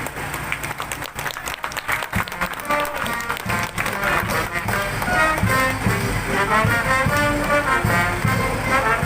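Audience applause at an Easter Sunday Salubong dance in Hagonoy, Bulacan, a steady wash of clapping that swells and holds loud, mixed with music and crowd noise.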